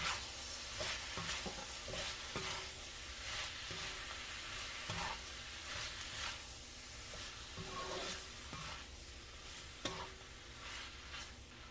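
Vegetable stir-fry with corn sizzling in a pan, a continuous soft hiss with regular stirring scrapes every second or so, close but quiet, no voices.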